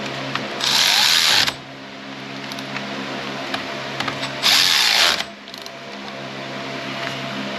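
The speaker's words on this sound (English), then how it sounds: "Now we'll tighten down those 10 millimeters." Two short, loud bursts of a power tool spinning down 10 mm bolts during a headlight pigtail replacement on a 2008 Honda Civic, separated by a few seconds of quiet workshop hum.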